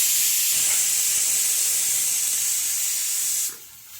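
Potatoes sautéing in a pan give off a loud, steady hiss of oil and steam that drops away abruptly near the end.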